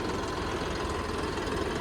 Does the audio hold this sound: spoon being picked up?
no